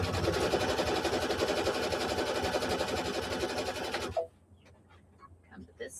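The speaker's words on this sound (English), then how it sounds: "We're going to stitch across here." A sewing machine stitches across a quilt block in a steady, fast mechanical whir that runs loudly for about four seconds, then stops abruptly, leaving quiet room sounds and faint voices.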